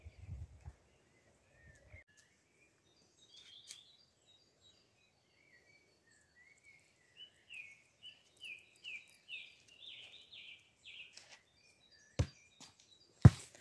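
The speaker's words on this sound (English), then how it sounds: "listen to that gorgeous sound of the birds" Birds sing faintly outdoors on a sunny evening, a run of quick chirping notes rising in the middle, between quiet gaps and a couple of sharp knocks near the end.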